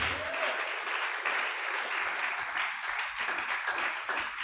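Church congregation applauding during a Pentecost service, steady full-room clapping that continues evenly throughout.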